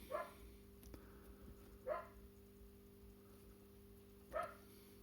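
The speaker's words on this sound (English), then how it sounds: "Why is the dog next door barking?" A neighbouring dog barks next door, three single muffled barks spaced apart, faint and distant over a steady indoor hum.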